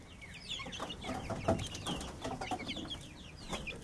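Month-old Australorp and Buff Orpington chicks make soft, quiet clucks and peeping chirps in a continuous scattered chatter close by.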